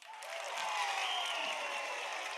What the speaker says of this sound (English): New applause.